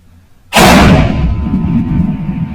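A single loud rifle shot is fired at a roughly 25-pound predator during a hunt, a sudden close blast that rolls away in a long fading echo across open ground.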